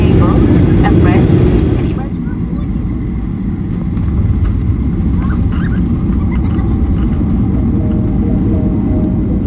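Loud, steady low roar inside a Jeju Air airliner cabin on the landing approach to Seoul, continuous engine and airflow rumble throughout, with a voice speaking briefly at the start.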